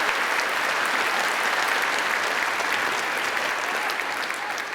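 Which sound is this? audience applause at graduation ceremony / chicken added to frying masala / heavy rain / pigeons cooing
audience applause at graduation ceremony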